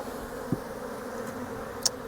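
Honey bees hum in a soft continuous drone at an opened hive during a spring inspection, faint and steady with a couple of brief clicks, no talking.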